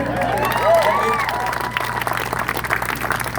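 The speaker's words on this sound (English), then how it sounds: "you clap for freedom, that's a good thing to clap for" A crowd at a Save America campaign rally in Newnan, Georgia claps and cheers while someone speaks over the noise. The sustained applause stays loud and close throughout.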